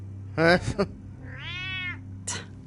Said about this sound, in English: Cat comes in, start hissing at me.